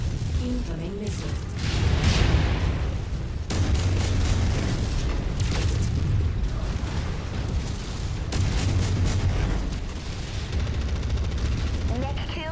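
Missile impacts and weapon fire in a MechWarrior battle, with repeated booming blasts and rumbling explosions over continuous loud combat noise, and a voice speaking at times.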